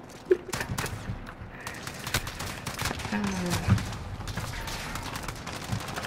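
Scattered gunshots and bursts of fire in a shooter video game ring out, sharp and irregular, mixed with players talking over the action.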